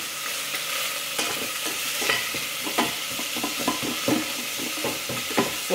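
Garlic sautes in an Instant Pot pressure cooker with a steady bright sizzle, broken by repeated scraping and clacking strokes from a stirring utensil, close and fairly quiet, with no voices.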